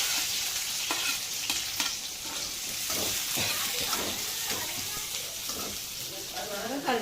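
Chana dal and onion sizzle in hot oil with popped mustard seeds, a tempering for carrot and beans poriyal, with a steady frying hiss broken by sharp clinks and scrapes of stirring up close.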